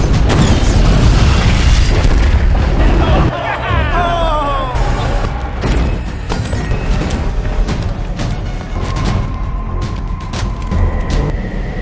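A car explodes in a film scene with a loud, deep boom and crashing burst, followed by rumbling debris and lingering wreckage noise with scattered clatter.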